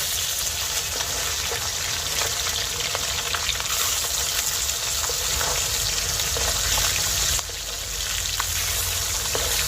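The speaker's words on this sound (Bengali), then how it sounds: "এবার আমি মাছগুলো উল্টে দেবো।" Silver carp pieces fry in hot oil as they are turned over, a loud continuous crackle with light scraping, briefly dipping and then surging again partway through.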